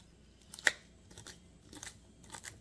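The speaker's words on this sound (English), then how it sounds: "I'm just going to make sure that the leaves are cut up small too." A sharp knife cutting leaves on a board for pork noodle soup, giving several crisp, short slicing crunches in an uneven rhythm, close and fairly quiet, with no talk.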